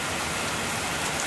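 Heavy rain pours in Springfield as a dense, steady roar of water hitting surfaces, loud and continuous, with no voices.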